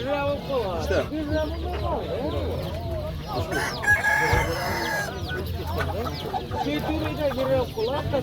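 Several roosters crow repeatedly amid a busy flock of clucking hens, with people talking in the background of a crowded, noisy poultry market.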